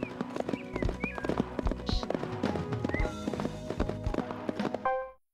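Horse hooves galloping in The Legend of Zelda: Breath of the Wild, a rapid steady clip-clop rhythm, close and clear over light game music, stopping abruptly at the end.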